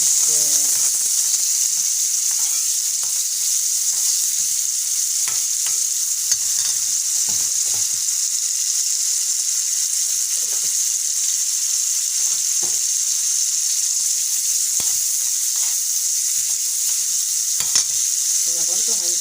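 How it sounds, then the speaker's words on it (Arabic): Onion and hot chili peppers fry in a pot with a steady, loud sizzle and hiss throughout, while a spoon stirs them in scattered scraping strokes; no one speaks. "هنزل بقى بيهم وهقلبهم بقى كده مع بعض ان هما يتبالوا"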